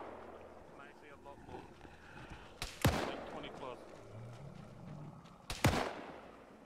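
Two loud, sharp gunshot reports from a zombie video game, spaced about three seconds apart, each trailing off in a short echoing decay over a low background of game ambience and faint voices.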